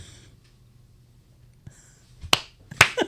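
Two sharp hand claps ring out close up after near silence, used to sync a podcast recording, with the second clap following about half a second after the first.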